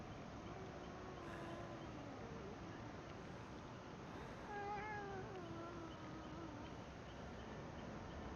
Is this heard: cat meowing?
yes